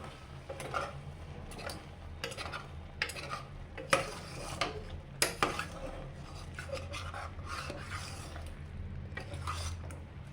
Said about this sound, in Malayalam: ഇനി നമ്മൾ അത് ഇളക്കി കൊടുക്കുക